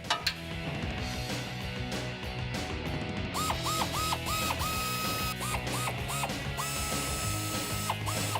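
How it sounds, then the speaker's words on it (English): A hand ratchet turns the three 5 mm Allen bolts on the stock blow-off valve of a 2011–2012 Ford F-150 3.5L EcoBoost, giving steady close rapid clicking with short pauses and faint metallic taps; no talking. "We're going to take out the 3 bolts with a 5mm Allen key."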